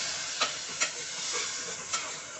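Onions, tomato strips and other okra curry ingredients sizzle in hot oil in a pan, a loud continuous frying hiss broken by three sharp scrapes or stirs.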